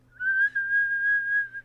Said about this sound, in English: If your mouth is in a position to make a whistle sound breathing in